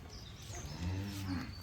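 A calf moos in a low, drawn-out call that swells midway, heard at moderate distance over faint outdoor background noise.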